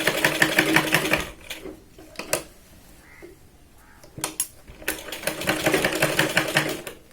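A sewing machine stitches a katori blouse in rapid mechanical bursts, a loud run, a pause with small clicks and handling sounds, then two more stitching runs.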